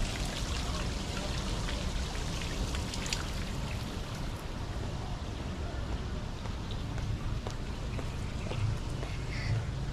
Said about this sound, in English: And then you have this beautiful wall, waterfall.